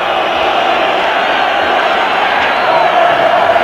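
Corinthians football fans chanting in a stadium during a 1999 Brazilian championship match against Palmeiras, a steady, loud roar of crowd voices under a commentator's talk.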